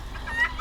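An Indio Gante hen gives a short, close burst of clucking, about half a second of grumbling, irritated vocalising with no talk over it.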